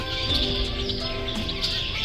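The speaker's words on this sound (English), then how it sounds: "There's all kind of starlings and redwings and grackles up in there." Starlings, red-winged blackbirds, grackles and mourning doves chatter from trees over a pasture, making a dense, busy mix of whistles, clicks and chirps at moderate distance.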